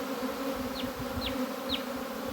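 Honeybees swarming at a hive, a steady dense buzz filling the background throughout, with a few faint high chirps recurring at intervals.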